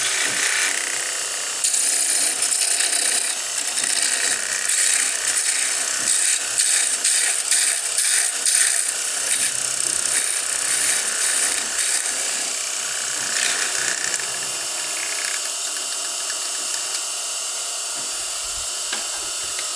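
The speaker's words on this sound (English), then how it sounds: "Now we'll switch to my 1/2-inch Thompson spindle roughing gouge." Wood spinning on a lathe being cut with a half-inch Thompson spindle roughing gouge while turning a small ornament: a continuous bright, rushing scrape with fluttering texture, steady and close for most of the span, easing slightly toward the end, no voices.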